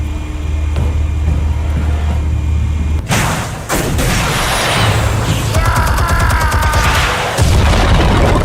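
A loud explosion in the Batman Telltale Series video game hits suddenly after a low rumbling lull, followed by crackling debris, booming aftershocks and rattling gunfire-like bursts, all near and without speech.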